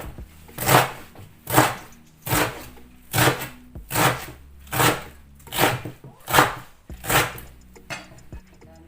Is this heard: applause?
no